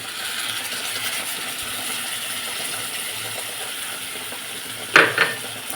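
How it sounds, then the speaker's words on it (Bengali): Mustard and poppy seed paste being stirred into hilsa fish in a pan: a low, steady sizzle with soft scraping throughout, and a short metallic clink of a utensil against the pan near the end. "এবার হালকা হাতে একটু আস্তে আস্তে নেড়ে নেবো"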